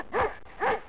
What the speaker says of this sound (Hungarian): Például kutyaugatás